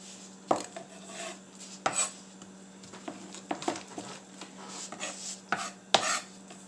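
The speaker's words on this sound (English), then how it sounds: "or a shallot, okay, and then just slice it as thin as you can" A knife slicing a shallot thinly on a cutting board, a close, uneven series of sharp chops and taps with a low steady hum underneath, no talking.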